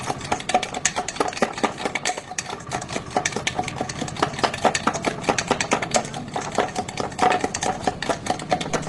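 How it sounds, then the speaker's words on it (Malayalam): A spoon stirs a cooking mixture just after poppy seeds go in, a dense run of quick scraping, clinking strokes that continues steadily and close by with no talk. "കൃത്യം 1 മിനിറ്റാണ് കസ്കസ് കൂടി ചേർത്ത് കഴിഞ്ഞിട്ട് ഷായിച്ചേട്ടൻ നിന്നിളക്കുന്നത്"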